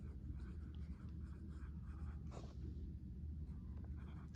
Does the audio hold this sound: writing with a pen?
yes